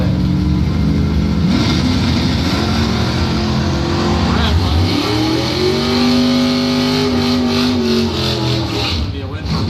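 A 1979 Chevrolet Camaro drag car launches against another Camaro at a points event drag strip. Loud engines rev and roar as they accelerate, their pitch climbing steadily under continuous announcer commentary.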